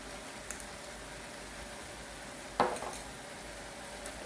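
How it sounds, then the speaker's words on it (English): Chili bean paste is stirred into ground beef frying in a pan, giving a soft, steady sizzle with a sharp scrape or clink of the utensil against the pan partway through. "Mix it up."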